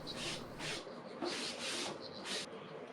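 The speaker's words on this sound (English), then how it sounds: "I decided to throw this dark wax on, rub it on, and then rub it off" A cloth rubbing dark wax onto painted wooden furniture gives a steady, close, scratchy swishing in repeated strokes at a quiet level, with no speech.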